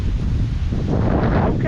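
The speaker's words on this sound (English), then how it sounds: "Very windy." Strong wind at the point of St. Joseph Peninsula State Park buffets the microphone with a constant, loud, low roar, with faint surf-like hiss beneath it and a voice briefly audible.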